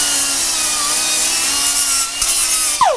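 Used Scotch-Brite pad rubbed along bolt threads to round them off, a steady close abrasive scrubbing that runs continuously with a short scrape near the end.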